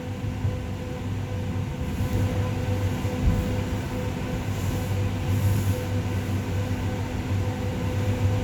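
Commuter train in winter heard from the rear cab on an EXO line between Bois Franc and Mont Royal, a steady loud low rumble of wheels and motors running continuously with faint rail squeal above.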